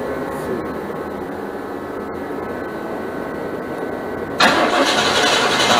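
A 1974 Chevy Camaro with a swapped engine, suspected of a loose starter connection, cranks over in a steady, loud drone that suddenly grows brighter and louder near the end.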